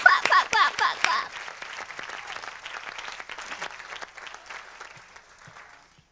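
A burst of applause and clapping, loud and dense for the first second, then thinning into a scattered, fading patter of claps that trails off toward the end.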